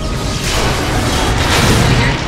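A loud, sustained, roaring explosion blast in the Neverwinter MMO video game, dense rumbling noise filling the whole moment without a break.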